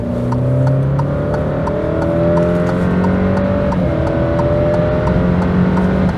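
An Alfa Romeo Giulia 2.0T 280 engine roars under hard acceleration, pitch climbing through gear changes with a loud, throaty exhaust, close up and steady throughout.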